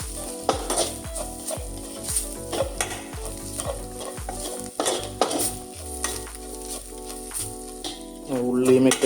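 Spices such as chilli powder and garam masala being stirred into a sizzling onion mixture in a pan on an induction cooker, with steady rhythmic scraping strokes over a continuous close fry.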